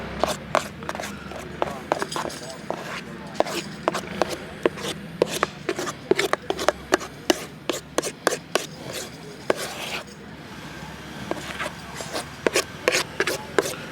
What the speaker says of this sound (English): keep stirring, look for any dry spots